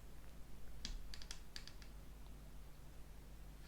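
A short burst of crisp clicking and rustling as tarot cards are riffled and tapped, then a quiet room hum.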